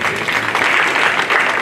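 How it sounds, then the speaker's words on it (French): A live audience applauds at a birthday celebration in Burkina Faso, sustained dense clapping at steady loudness for a short burst with no talk over it. "applaudissez pour moi,"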